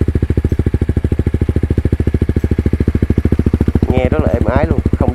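A Honda CBR 150 motorcycle engine idling smoothly, close and loud with an even rapid thumping beat, and someone speaks over it near the end.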